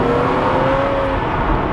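Subaru WRX STI with an AEM cold air intake, engine held at a steady high rev with a strong whirring induction tone, loud and close, no talking.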